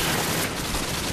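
Pistol gunfire in Call of Duty MW2 comes as a dense, loud burst of sharp shots packed tightly together at close range.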